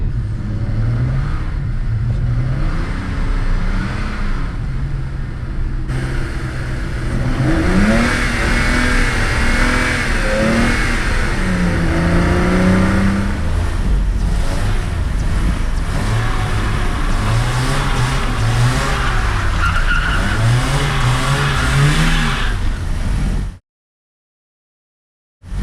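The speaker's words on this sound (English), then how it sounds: "You think you're doing good, but then you add too much throttle" A car with an open differential revs hard while drifting, its engine note climbing and falling in repeated throttle bursts as one wheel spins, loud and close with no talking, before cutting to silence near the end.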